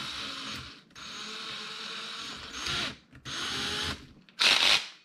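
Tap from a tap-and-drill set driven by a drill into brittle material, giving several short bursts of whirring and grinding separated by pauses, with the last burst loudest and closest.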